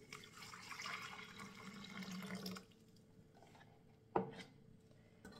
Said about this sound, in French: Et je vais y mettre mon eau tiède.